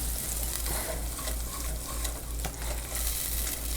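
Sugar being stirred into melted chocolate in a pan over low heat for homemade brownies: a steady, close scraping and swishing that runs continuously without pause, with no voices.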